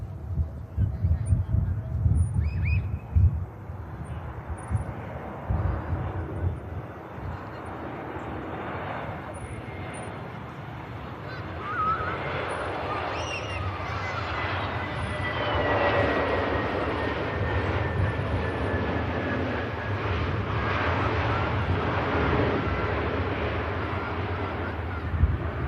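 An EgyptAir airliner passing at Manchester Airport, its jet engine roar loud and close at first, then settling into a long, steady rushing drone that carries on to the end, with people talking over it early on.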